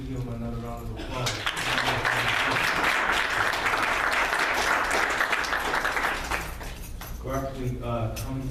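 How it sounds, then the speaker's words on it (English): Loud, dense audience applause fills most of the stretch, swelling in after a brief moment of voices and fading as a speaker's voice returns at the end. "Please give them another round of applause."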